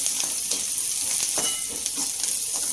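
A spoon stirs bitter gourd (karela) bhaji with turmeric and chili powder in a hot pan, giving scraping strokes over a constant loud sizzle of frying.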